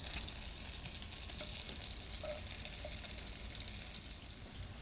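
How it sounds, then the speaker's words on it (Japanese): Garlic stir-frying in butter in an emptied frying pan over medium heat, with onion joining it, a steady close crackling sizzle throughout with faint scraping, no talk. "焦がさないように気をつけながら炒めていきます"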